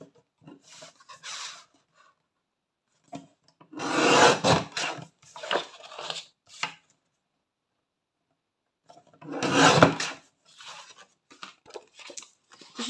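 A paper trimmer slices through scrapbooking paper while side flaps for storage pockets are cut, giving two loud rasping cuts around four and ten seconds with quieter scraping and handling in between, nearby and without talk.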